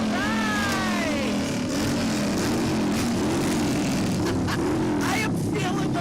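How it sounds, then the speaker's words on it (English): Three motorcycles roar past during a St. Patrick's Day parade, with loud sustained engine drone and rising, falling revs that dominate throughout, close by. "All that noise from 3 motorcycles."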